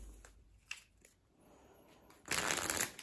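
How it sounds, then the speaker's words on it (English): A deck of playing cards from The 17th Kingdom Avant Garde line being ruffle shuffled, a dense close burst of riffling card flutter lasting under a second near the end, after quieter handling sounds. "they ruffle shuffle"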